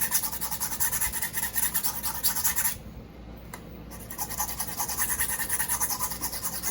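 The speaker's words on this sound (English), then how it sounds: "this is just me thinning out the shoulder" A file rasps back and forth across the shoulder of a knife blade to thin it, giving steady, close, rhythmic scratching strokes with a short pause partway through.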